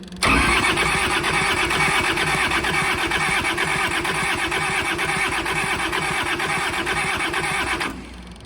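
A Kubota L285 tractor's diesel engine cranks steadily with the fuel pump on, a loud, close, rhythmic churning that runs for about eight seconds after sitting unused for years, then cuts off.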